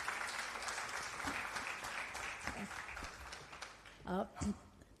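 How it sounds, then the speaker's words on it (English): A burst of applause from a conference audience, fairly quiet and distant, with a voice briefly rising over the clapping near the end. "she deserves a special round of applause for this"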